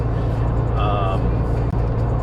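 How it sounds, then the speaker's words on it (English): Subaru Crosstrek 2.0L fitted with a Nameless Performance axleback exhaust, a low steady droning rumble heard from inside the cabin while driving, continuous and moderately loud. "you do get that little bit of a Subie rumble, albeit pretty tame in comparison to a WRX or something like that"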